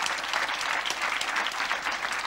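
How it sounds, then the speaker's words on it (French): Audience applause for Benoît Peeters at Casterman's year-end 2023 comics presentation, a steady dense wash of many hands clapping throughout, fairly distant and even in level. "vous pouvez l'applaudir"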